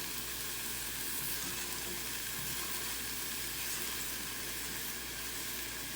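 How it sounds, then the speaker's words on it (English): Black noodles searing in a hot pan for a vegan meal, giving a steady, dense sizzle and hiss that holds constant the whole time, close and fairly loud, with no talking. "And just pan sear that up a little bit."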